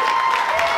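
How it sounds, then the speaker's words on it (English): A comedy club audience at a stand-up show bursts into sustained applause, many hands clapping together in a dense, continuous wash that fills the whole short moment without pause. "Start clapping right now."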